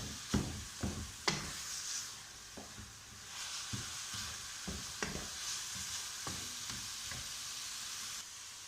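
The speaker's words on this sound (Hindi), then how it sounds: "इसको हमने अच्छी तरह थोड़ी देर के लिए फ्राई करना है" Gajrela mixture of grated carrots, milk and water frying in a pan as it dries down, with a steady sizzle under repeated scraping strokes of a spoon. The stirring taps come unevenly, close and clear, and no one speaks.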